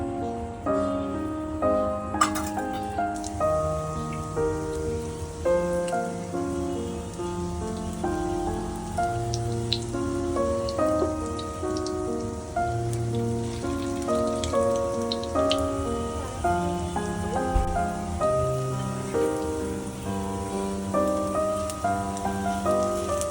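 Lentil fritters (boras) fry in hot oil with a continuous, even sizzling crackle, close and sustained and with no voices.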